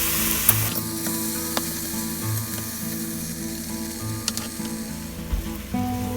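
Pork for carnitas browns in a hot pan, giving a steady bright sizzle and crackle with occasional sharp pops and a few clinks of a utensil, close and clear without any talk.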